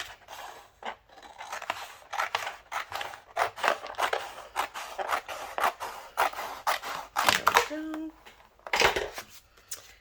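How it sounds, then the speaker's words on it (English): Scissors snip and slice through a piece of craft transfer tape in a close, quiet room, giving a run of crisp cuts and rustling crinkles with a brief hum near the end. "I'm going to go ahead and cut out a piece of my transfer tape here"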